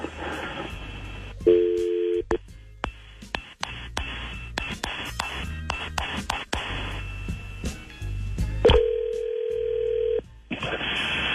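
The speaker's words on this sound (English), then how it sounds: "We can call her right now and let her know what's going on." A phone call placed live on a radio show: tones sound as the number is dialed, then a steady ringback tone repeats, with brief whispering and studio clatter around it.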